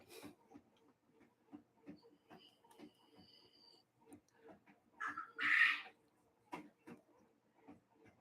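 A quail calling nearby in quiet surroundings, with one louder sharp call standing out among faint, soft repeated clucks and ticks.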